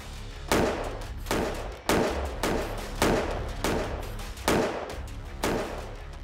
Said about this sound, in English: we had fired more than 30 rounds at our level A9 B6 Plus Tesla Model S without a single instance of a ballistic penetration